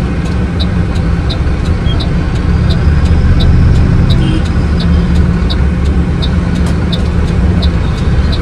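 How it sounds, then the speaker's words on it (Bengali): Steady, loud car engine and road rumble throughout, with faint repeated high clicks over the continuous drive noise. "চলো এখন গাড়ি ছাড়ছে"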